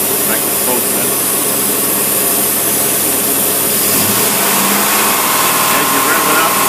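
A marine boat engine fitted with a Rochester carburetor runs loud and steady, with a broad roar that lifts slightly as it is revved partway through.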